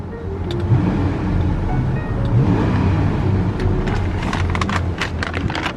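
A 2004 Infiniti Q45 luxury sedan with a Nissan-made 4.5-litre V8 engine running, heard from inside as a smooth, steady low drone with road rumble, loud and continuous.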